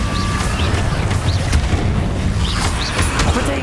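Incendio fire spell in the Hogwarts Legacy video game: a loud, dense roaring burst of magical fire and combat effects, with whooshing flourishes and scattered sharp cracks throughout.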